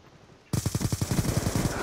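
Rapid automatic gunfire from a firearm in the video game Call of Duty: Black Ops 2, starting abruptly after brief near-silence and continuing as a loud, steady burst of roughly ten closely spaced shots.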